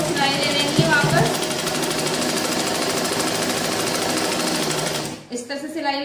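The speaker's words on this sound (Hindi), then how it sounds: "इस तरह से सिलाई लगा लेंगे।" Sewing machine running continuously for about five seconds while stitching a girl's frock, loud and steady, then stopping abruptly, with someone speaking briefly as it halts.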